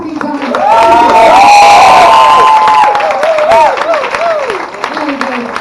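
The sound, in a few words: comedy club audience applauding and cheering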